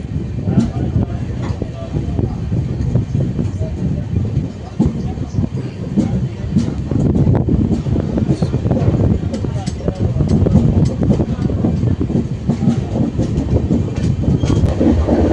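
The 12821 Dhauli Express from Kolkata to Puri runs fast on the rails, a loud, continuous close rumble with rhythmic wheel clatter and rattling carriages throughout.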